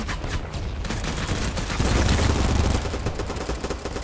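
Sustained automatic gunfire in the video game Battlebit, a dense unbroken rattle that swells louder midway through.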